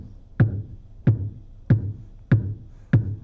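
A Micro Log Jam piezo stomp box, a small hollow wooden box, is stomped through a Fender Rumble 25 bass amp, giving five evenly spaced, deep thuds roughly every 0.6 seconds.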